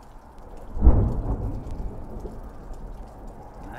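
Thunderstorm with a sharp crack of thunder near the start, rumbling briefly before settling into steady rain noise that continues throughout.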